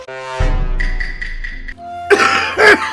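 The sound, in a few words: coughing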